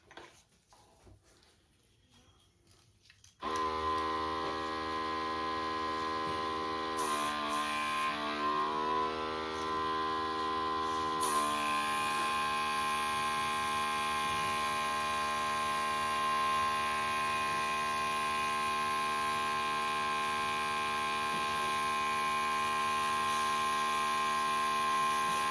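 A blower used while making paint-pour tiles starts after a few quiet seconds. It runs as a loud, steady humming whine with a brief wavering change partway through, then holds constant to the end.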